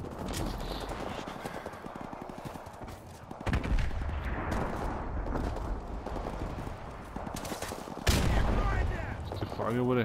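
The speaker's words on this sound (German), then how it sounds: "Das war ein Sniper-Schuss." Gunfire rings out in Call of Duty Modern Warfare Remastered, with a sniper shot among sudden heavy blasts that cut through continuous battle noise and rumbling, while someone talks over it.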